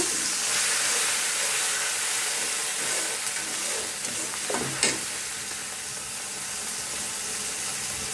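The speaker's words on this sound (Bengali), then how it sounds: "পেঁয়াজটা ভাজা হয়ে গেছে এই যে একটু পানি দিয়ে দিব" Water poured onto onions fried in hot oil sets off a loud, steady hissing sizzle that fills the whole stretch, with a brief clatter of a spoon midway and no speech.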